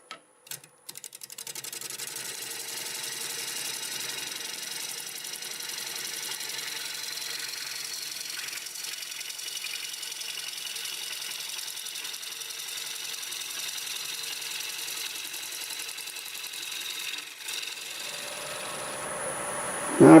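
A wood lathe at 800 RPM turns a black walnut bowl blank, a steady whirring drone that runs evenly for about twenty seconds with no talking, then ends in a brief louder scrape.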